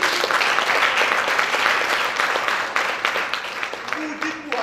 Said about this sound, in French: Vous applaudissez